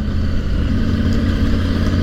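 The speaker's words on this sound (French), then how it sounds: "Un peu d'évolution urbaine au guidon de cette Triumph Tiger 900 GT Pro avec un moteur particulièrement disponible" A 2023 Triumph Tiger 900 GT Pro motorcycle's engine pulling smoothly at low revs in town, around 2000 rpm in fifth or sixth gear, a steady close, deep rumbling drone without revving peaks.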